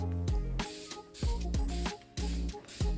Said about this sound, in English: I'm going to spray this down.